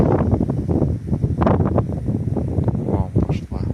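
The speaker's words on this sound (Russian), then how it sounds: "Вот так вот ветер выдувает снег в Хакасии." Gusty wind sweeps across the snowy steppe of Khakassia, lifting snow from the grass and buffeting the microphone in loud, uneven rumbles, with a voice faintly mixed in.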